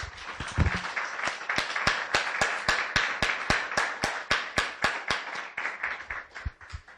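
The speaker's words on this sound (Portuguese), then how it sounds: "Vamos mais uma vez dar uma salva de palmas para o nosso Deus" A church congregation claps in steady unison, a close, even rhythm of sharp beats repeating about three times per second throughout.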